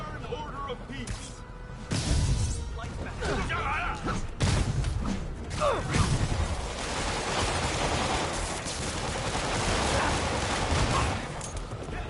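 Rapid bursts of gunfire crackle throughout a Spider-Man video game scene, dense and continuous like a fusillade with thumps mixed in, sounding under overlapping game speech and noise.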